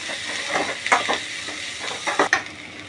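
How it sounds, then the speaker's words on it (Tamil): Onions frying in leftover chicken-frying oil give a steady sizzle, with a utensil stirring and scraping the pan in a few bursts, close up. "ஆனியன் நல்லா ஃப்ரை ஆகிட்டு இருக்கும்"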